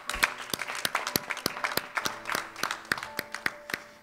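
A worship congregation applauds in acclaim of the Lord, with many sharp claps blending into a dense, steady patter that swells and eases over a few seconds, fairly close and without talk.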